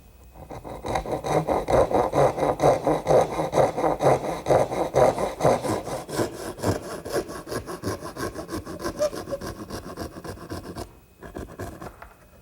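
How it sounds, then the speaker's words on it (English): A small dovetail saw cuts notches into a wooden corner clamped in a workbench while a plant stand is built, giving steady, close, rhythmic back-and-forth rasping strokes that slow and fade briefly near the end. "now I'm just going to cut them with my little dovetailing saw"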